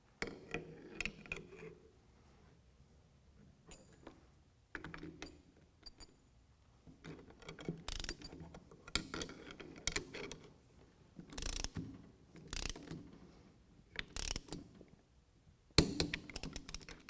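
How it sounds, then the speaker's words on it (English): A ratchet torque wrench tightens leveling kit hardware to 35 foot-pounds on a 2021 Ford F-150, giving repeated bursts of sharp metallic clicks, loud and close, separated by short pauses. "We're going to torque the hardware to 35 foot-pounds."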